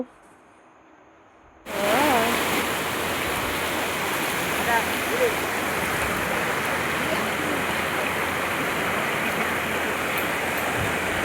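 Cold stream water rushes in a steady, close, broadband wash that starts abruptly after a near-silent moment, with voices faintly under it.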